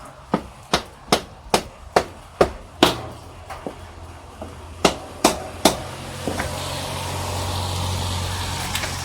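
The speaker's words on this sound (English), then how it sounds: "So, a few taps." Light hammer taps on the rear wheel parts of a Yamaha XS650 motorcycle: about eight sharp, evenly spaced metallic knocks, then a pause and three more, close up, followed by a low rumbling background.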